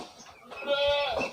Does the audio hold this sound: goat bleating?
yes